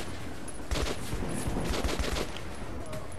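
Gunfire in the video game Metro, a run of fast, punchy shots in quick bursts heard close up over steady background noise, fading off toward the end.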